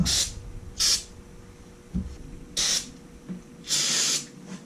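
Four short bursts of aerosol spray hiss loudly at uneven intervals onto a carburetor from a 1974 750K chopper motorcycle, the last one longest, with faint clicks and quiet background between.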